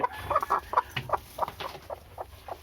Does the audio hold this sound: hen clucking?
yes